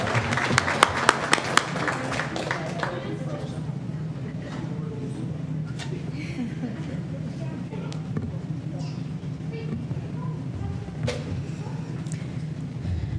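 A board of education meeting audience gives a round of applause for honored families, a dense steady clatter of clapping that starts with a few sharp claps and fills the room throughout, with a voice briefly speaking over it.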